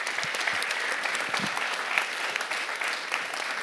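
Audience applause at an award ceremony for a prize presentation, a dense, even wash of clapping from a large crowd sustained across the whole stretch, fairly near and without pause.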